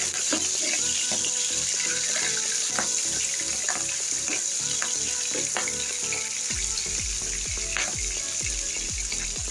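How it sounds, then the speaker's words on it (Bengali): Cleaned prawns frying in hot oil, a loud continuous crackling sizzle close up for the whole stretch, with scattered pops and spatters and no talking. "এখন আমি মাছগুলো তেলের উপরে একটু ভেজে নিব"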